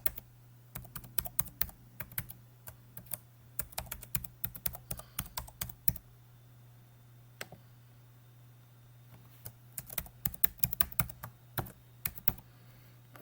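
Typing a login ID and password on a computer keyboard, bursts of quick close key clicks separated by short pauses, with a low steady hum underneath.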